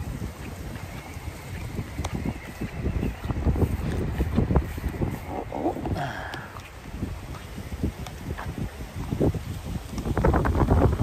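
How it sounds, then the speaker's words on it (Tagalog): Gusty wind at a fishing spot in Saipan rumbles against the microphone alongside lapping water and occasional knocks, rising and falling in strength over several seconds. "Ano lakas ng hangin dito?"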